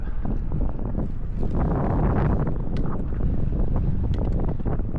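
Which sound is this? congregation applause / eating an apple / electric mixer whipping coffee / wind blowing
wind blowing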